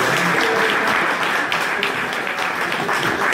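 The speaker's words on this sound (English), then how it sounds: "A big round of applause for him" A dense, steady round of crowd applause welcomes a guest speaker at a book event, loud and sustained from start to finish with no break.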